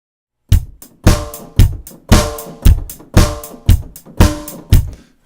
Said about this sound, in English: and then with the hi-hat